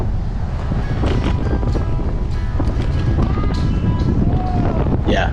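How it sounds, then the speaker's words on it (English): Strong 23 mph headwind rushing over a cyclist's microphone on a prairie ride near Cheyenne, Wyoming: a steady, loud, buffeting roar that never lets up through the clip. "23 mile an hour in your face headwind"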